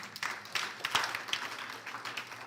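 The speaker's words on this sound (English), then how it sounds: "I want you guys to clap for all those people who said something." Audience at a university peace talk clapping, a dense patter of many hands, steady and moderate in level, heard with no speech over it.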